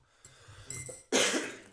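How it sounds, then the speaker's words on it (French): Indoors, someone gives a few faint sniffs and small throat sounds, then a sudden, close, harsh cough bursts out loudly near the end, in a casual French-language recording. "J'ai toussé et reniflé tout le long."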